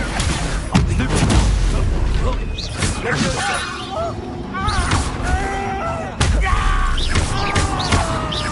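An Expulso explosion spell cast in a video game: heavy booming blasts and crashing debris mixed with busy combat noise, with voices speaking during the action.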